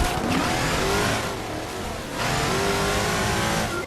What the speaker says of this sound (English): The vehicles can sound a little underpowered sometimes, like they're just really big go-karts